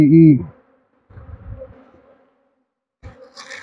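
Short bursts of low buzzing from honey bees at an LR hive come and go, separated by stretches of near silence.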